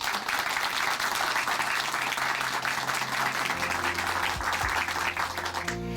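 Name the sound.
audience applause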